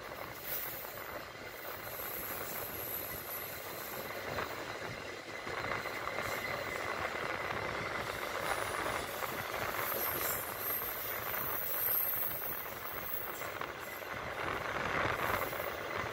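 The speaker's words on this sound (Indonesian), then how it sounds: "Saat ini perjalanan kereta api Argo Sindoro akan segera melewati stasiun Cakung" Argo Sindoro passenger train passing on railway tracks near a station, a continuous rumbling rush with rail hiss and faint metallic squeals, heard from a moderate distance.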